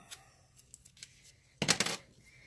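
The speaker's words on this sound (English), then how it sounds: "I'm going to snip it right up here." Scissors make a few quick metallic snips cutting lace for a stamping craft project, ending in a short, louder cluster of cuts close by in a quiet room.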